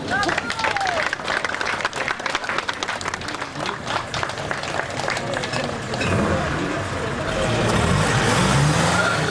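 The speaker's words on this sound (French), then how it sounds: "On les applaudit." Outdoor classic car show crowd clapping for a 1933 Peugeot 301, a dense burst of hand claps for several seconds that thins out, then gives way to chatter and nearby engine and traffic rumble.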